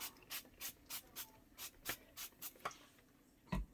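Avocado oil spritzed onto a hot grill in a run of about ten short, even hisses, faint and close, with a small clunk near the end.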